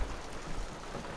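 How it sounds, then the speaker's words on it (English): Rain falls steadily outdoors, a soft, even hiss of drops with no voices and no distinct individual splashes. "I'll wait for the rain to stop"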